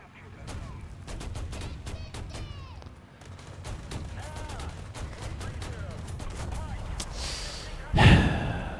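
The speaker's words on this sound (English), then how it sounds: "Shoot. Shoot. Hold machine gun." Machine gun fire in the War Thunder combat game, rapid bursts of sharp shots with a louder blast near the end, mixed with a player's voice talking over the action.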